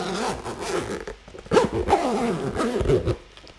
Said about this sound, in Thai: ลองเล่นซิปตรงนี้